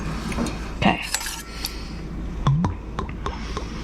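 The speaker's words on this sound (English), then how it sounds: "We are mixing 1 more teaspoon." A spoon clinks against a bowl while stirring Vietnamese fish sauce (nuoc mam) for banh xeo, giving a few sharp, close metallic taps spread over a quiet kitchen background.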